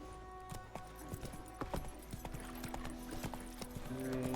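Roach, the horse in The Witcher 3 video game, trotting with a steady, close clip-clop of hooves amid soft tonal game ambience.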